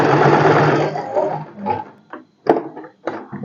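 A sewing machine stitches a boatneck dress: a loud, close burst of whirring runs, then stops, followed by a few short clicks and clunks as the needle and presser foot are handled.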